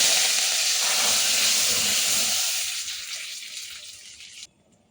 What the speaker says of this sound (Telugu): ఈ తాలింపుని మరిగే పప్పులో వేసుకోవాలి.